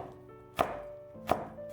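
A knife slicing small red chilies into rings on a cutting board, two sharp, close chops about three quarters of a second apart in a quiet room.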